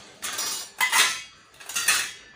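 A small plate and spoon handled close up, producing three bright metallic clinks and scrapes of cutlery against dishware in quick succession.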